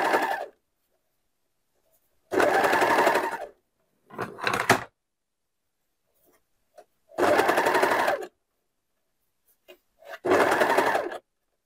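A sewing machine stitches a seam on a baby bodysuit in short bursts, four sustained runs of whirring needle stitching plus a brief stuttering one, separated by silent pauses.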